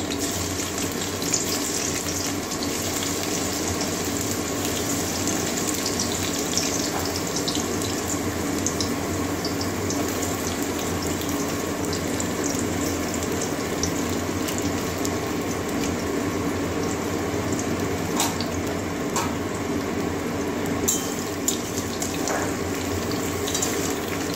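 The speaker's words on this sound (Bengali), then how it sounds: "তেল গরম হয়ে গেছে, এবারে কাঁকরোল দিয়ে দিচ্ছি, ভেজে নেব আগে।" Teasel gourd pieces frying in hot oil, giving a steady, dense, continuous sizzle and crackle that carries on evenly throughout with a few sharper pops, close and fairly loud, with no talking.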